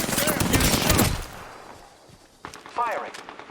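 Gunfire in the video game Apex Legends: a dense burst of rapid shots fills the first second, then fades, with further sharp reports and clattering effects returning near the end, loud and close.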